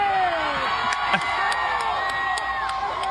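A crowd at a country music concert cheering and whooping, a dense, steady roar of many voices filling the whole moment with a few higher shouts poking through.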